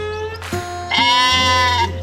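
Sheep bleating in a farmyard beside a lake: a couple of overlapping, wavering bleats, fairly close and clear, over a low steady background hum.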